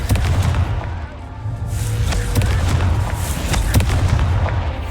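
Fiery Confringo spell blasts in the video game Hogwarts Legacy, a dense run of loud booming explosions with crackling bursts and rumbling low end sustained throughout, mixed with game effects.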